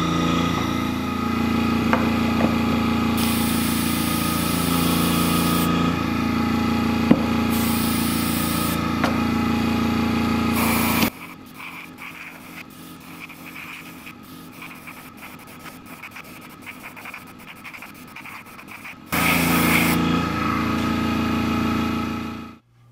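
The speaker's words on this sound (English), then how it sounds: "Let's go turn on the airbrush compressor." A small airbrush compressor runs with a steady whine while flat brown paint is sprayed onto the interior nozzle of a V-2/A4 scale model, the motor cutting out midway and starting again near the end.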